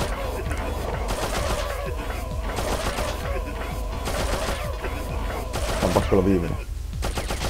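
Rapid gunfire rattles throughout a stretch of the platform game Abe's Exoddus, loud and continuous with dense repeating shots, while a player talks briefly over it.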